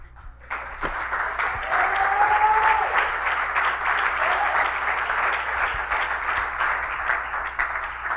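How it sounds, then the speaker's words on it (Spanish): A church congregation breaks into applause after a short opening moment, with loud, sustained clapping that swells quickly and holds steady to the end, and a brief voice or tone rises within it early on. "ese aplauso es para el Señor"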